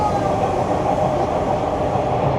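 Toronto subway Line 2 train pulling into Bay Station, a steady loud rumbling roar of wheels and motors, continuous and close from inside the car.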